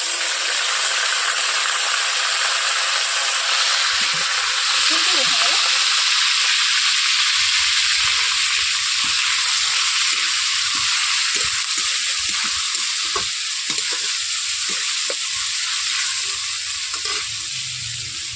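Chopped onion, onion paste, chopped tomato, ginger paste and garlic paste frying together in a pan: a loud, continuous close-up sizzle with repeated scraping stirs throughout.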